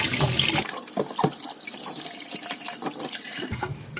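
A kettle is washed under running tap water: a steady rushing flow fills the sink, with splashing and uneven gurgles as water hits the kettle, close and loud.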